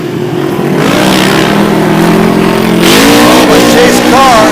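Off-road SXS race car roars past during a race, engine loud and close with a rising, revving whine and a pitch shift as it passes.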